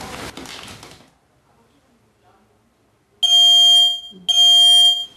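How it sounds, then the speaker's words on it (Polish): Brief sounds, then silence, followed by two loud, piercing 92 dB smoke alarm beeps, each lasting about a second, close and harsh. "Ten dźwięk o sile 92 dB ma alarmować o pojawieniu się w pomieszczeniu dymu."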